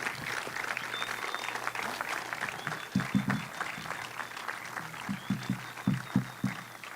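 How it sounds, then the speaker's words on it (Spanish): Steady, dense applause from an audience at a farewell ceremony held by the Aruban Olympic Committee ahead of Paris 2024, filling the whole stretch at moderate loudness, with a few voices speaking over it in the second half. "para dar forte aplauso"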